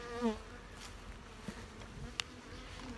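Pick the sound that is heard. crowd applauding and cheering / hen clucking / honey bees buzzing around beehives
honey bees buzzing around beehives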